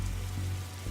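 Steady rain falling in The Darkside Detective video game, a continuous even hiss of rain on surfaces under a low hum, with no speech.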